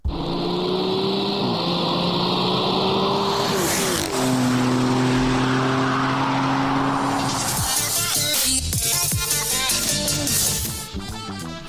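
A podcast weekend jingle built on a car engine sound, loud revving with rising and falling engine tones that shift into a busier, rougher roar near the end.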